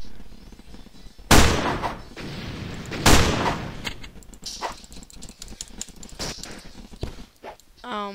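Gunfire in the Roblox game Call of Robloxia Black Ops, with two loud sharp bursts followed by scattered smaller shots and clatter, while someone talks over it.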